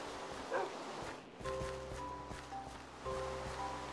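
A dog in the Minecraft video game gives a couple of brief, soft barks. Game tones and ambient noise continue underneath, with no talking.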